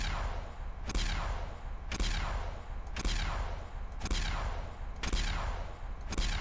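Modded plasma weapons in Fallout 4 fire in a steady rhythm, roughly one loud, sharp discharge each second, each with a bright crackling tail, six shots in all with no talking.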